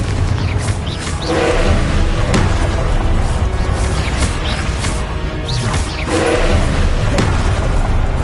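Confringo fire spell explosions in Hogwarts Legacy: loud, dense booming blasts and crashes that fill the whole clip, with heavier impacts recurring every few seconds.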